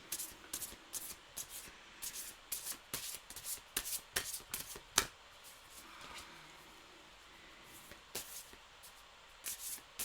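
A deck of tarot cards is shuffled by hand in a quiet room, with rapid crisp riffling bursts and soft slides in irregular clusters, close and fairly faint, no voices.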